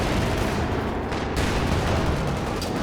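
Dense, continuous battlefield gunfire from the Company of Heroes 2 World War II strategy game, with anti-tank guns firing amid overlapping shots and explosions, loud and unbroken throughout with no clear single report standing out.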